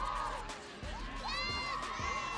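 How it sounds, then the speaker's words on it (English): Tulalip Hawks cheer squad, the Lady Hawks, chanting a rhythmic team cheer at a high school football game, a crowd of voices rising in repeated bursts, moderately distant over the stadium murmur. "Let's Go Hawks is a anthem being cheered here right now by the Tulalip Hawks cheer squad, the Lady Hawks."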